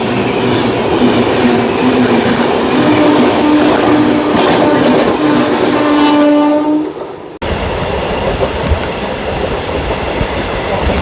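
A passenger train on the 61117 Nagpur service runs loud and close after departure, wheels clacking under a long, drawn-out horn blast that fades before the rolling noise continues.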